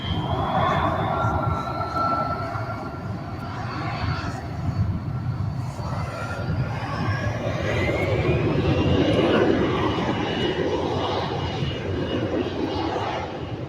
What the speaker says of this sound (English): we've got the Alaska Airlines Boeing 100 years strong livery, Boeing 737 900ER, Alaska, coming up next